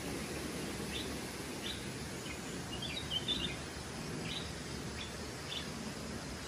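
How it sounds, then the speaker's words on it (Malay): Several birds chirp in short, scattered morning calls over a steady hum of insects and faint background noise in a rural village, with no one talking. "Cuma dengar pagi-pagi dah bunyi burung lah."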